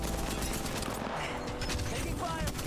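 Continuous dense gunfire in the Apex Legends video game, a loud rapid barrage of shots and mechanical clatter filling the whole moment without pause.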